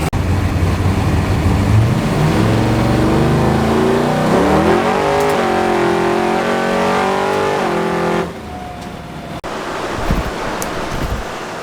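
A Chevy II's engine revs hard and climbs through the gears on a test cruise, loud and close for about eight seconds, then drops to a quieter, steady drone.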